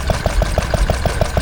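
A vintage stationary petrol engine of the kind that drove workshop lathes and drills runs at a show, a loud, steady chuff-chuff beat of about six firing pulses per second over deep mechanical rumble.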